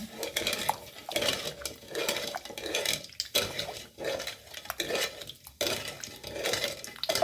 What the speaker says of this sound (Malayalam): നമ്മൾ അപ്പോൾ ഇനി നന്നായിട്ട് ഇതൊന്ന് ഇളക്കി വയ്ക്കുകയാണേ